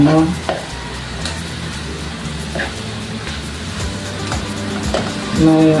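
Chicken cubes for sisig sizzle in a pan while being stirred, a moderate frying hiss broken by scraping and clinking of the utensil against the pan, with a few faint voice sounds.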